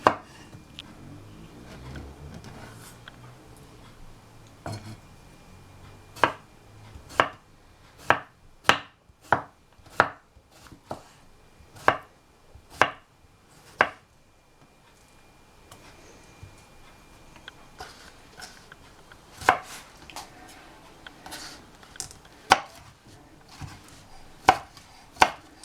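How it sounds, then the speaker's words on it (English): A knife chops food into small chunks on a board, sharp distinct strikes in a loose rhythm, some quick runs and some spaced pauses, close and clear with no talk. "Just going to cut it into small chunks."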